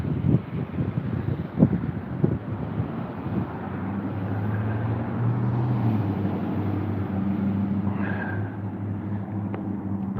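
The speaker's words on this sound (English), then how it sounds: "it's pretty cold and windy out here" Cold wind blows outdoors in a steady broadband rush, with a few gusty thumps against the microphone near the start and a faint distant engine hum underneath.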